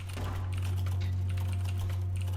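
Keyboard typing from the Waxback: Final Sentence video game, a rapid patter of key clicks over a loud steady low hum, close and continuous.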